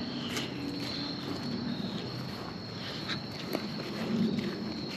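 Crickets chirp at night along park trails near a campsite, a faint, thin, steady trill with scattered soft rustles and footstep-like noises, no voices.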